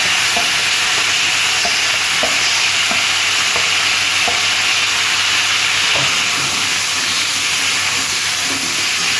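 Fried potatoes stirred into a sizzling pan of Bengali fish curry with drumstick stems and lentil dumplings, constant loud hiss of frying close by with repeated scraping stirs and small clinks.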